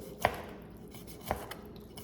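A knife cutting bacon-wrapped filet mignon into smaller pieces on a board, heard as two sharp chopping knocks with a faint tap, close and quiet against a low room hiss, no talk.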